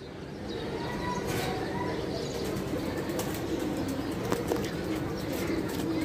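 Racer pigeons coo softly at a sale, mixed with steady wing flutters and a few faint chirps against a busy background murmur.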